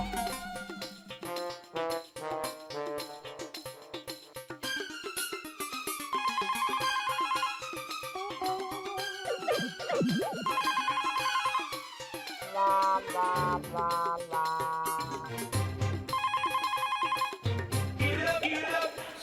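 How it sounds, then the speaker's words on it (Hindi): A home telephone rings on and on unanswered, its electronic ringtone repeating in a steady melodic pattern, loud and close, for the whole stretch, with no one picking up. "नटू काका, मेरा घर पे फोन लगाना तो।"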